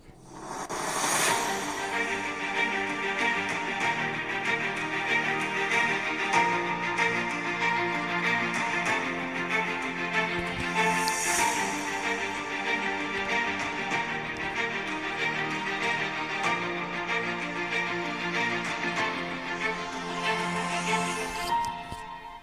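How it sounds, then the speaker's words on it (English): Razer Blade 17 2022 gaming laptop speakers play test music at 80% volume, a full, continuous stream of layered tones and beats lasting over twenty seconds with no talking. "Speaker test of the Razer Blade 17"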